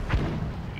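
A mortar fires once in the World War II strategy game Company of Heroes, a single loud, deep thump that dies away quickly.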